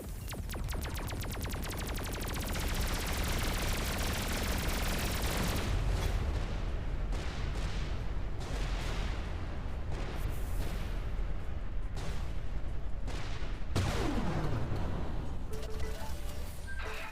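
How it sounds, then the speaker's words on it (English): Turret guns in a tactical sci-fi video game pounding a huge enemy ship, a dense, continuous barrage of loud booming blasts and crashing impacts that thins into separate heavy explosions toward the end. "Let's see how quickly I can blow this one up with the turrets."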